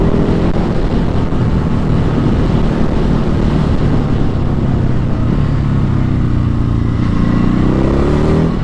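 Ducati Hypermotard 950SP motorcycle engine on the road while riding, a loud steady drone heavy with wind rush, the engine pitch rising near the end as it accelerates.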